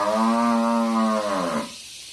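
A single long, low moo from a cow, loud and close, trailing off after about a second and a half into quiet.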